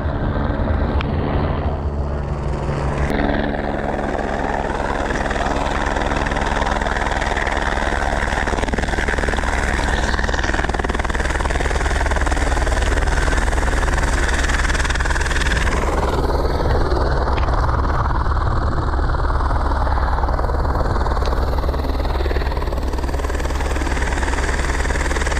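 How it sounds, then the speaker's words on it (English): A helicopter flies in to land near snowmobiles in snowy backcountry. Its rotor and turbine roar is loud, close and continuous throughout, with the thump shifting as it descends. "I think the heli will land out there."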